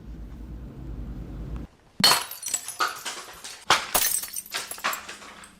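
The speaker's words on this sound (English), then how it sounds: "when I smack it, shards will fly out everywhere" A rebreakable plastic wine bottle is smashed: after a low hum cuts out, a sharp crack bursts, followed by a scatter of clattering, tinkling shards and a second burst of breaking and scattering pieces nearby.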